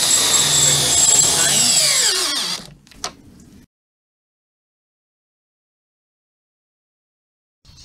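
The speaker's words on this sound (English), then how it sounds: "Good time-saving tool is the multi-torque socket set." Power tool whir from a multi-torque socket set working on a DE pool filter, loud and continuous for a couple of seconds, winding down with a falling pitch, a brief click, then near silence.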